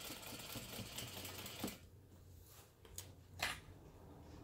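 A sewing machine backstitches a half-inch seam on a fabric beauty bag, running in a steady dense whir for about two seconds, then pausing with a few short bursts and clicks close by, with no talking.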